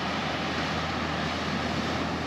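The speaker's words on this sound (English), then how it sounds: "it's the beach tractor." A beach tractor works soft, dry sand at night on the beach at Benidorm, flattening it. Its engine gives a loud, steady, close drone throughout with no talking.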